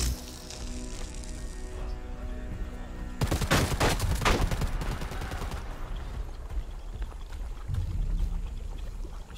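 Gunfire in the online shooter Predator Hunting Grounds, a burst of dense rapid shots after a quieter ambient opening, then continuing scattered rattle at moderate distance with no talk.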